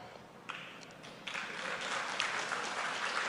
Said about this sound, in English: First time I'm hearing people cheering for Pakistan.